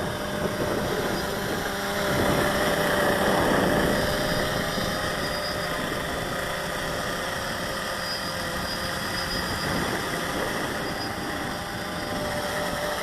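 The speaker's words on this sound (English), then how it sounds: "But the hover test into the wind, I mean, look at it." An XK Detect X380 drone hovers into strong wind, its motors giving a constant loud whirring drone, with wind roar and slight surges in the pitch and level throughout.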